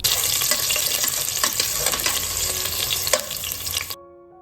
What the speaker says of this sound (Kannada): ಎಣ್ಣೆ ಬಿಸಿ ಆದಮೇಲೆ ಅರ್ಧ ಈರುಳ್ಳಿನ ಸಣ್ಣ ಸಣ್ಣದಾಗಿ ಸ್ಲೈಸಸ್ ಮಾಡಿ ಹಾಕ್ಕೊಂಡಿದ್ದೀನಿ